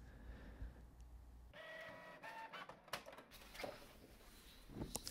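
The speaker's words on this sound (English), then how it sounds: "After printing this picture with some high quality settings" A printer prints a picture on high quality settings, a quiet close sequence of whirring feed motion, clicks and short mechanical bursts as the print head moves across the page.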